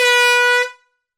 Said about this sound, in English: then I have my intern Jerry ready with an air horn.